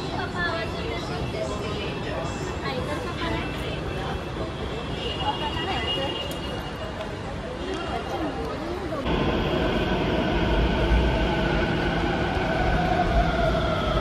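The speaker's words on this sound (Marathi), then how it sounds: "आली मेट्रो." A Navi Mumbai metro train pulls into the platform at Belapur, a broad rumbling roar and whine that swells sharply partway through, with tonal hums and people chatting nearby underneath.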